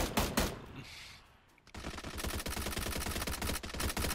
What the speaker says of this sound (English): The Moto Man is shooting at us.